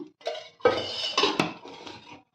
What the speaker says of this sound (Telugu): నేను కళాయి పెట్టేసి ఇలా తగినంత ఆయిల్ వేసేసుకుంటున్నాను